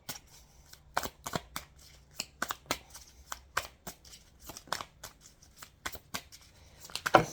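Tarot cards being shuffled close up, with quick irregular riffles and soft flicks of the cards, quiet and without talk.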